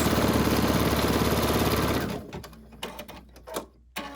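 Embroidery machine stitching an Easter gift card holder design in blue variegated thread, a rapid rhythmic mechanical chatter that stops halfway through, followed by a few scattered clicks and clacks.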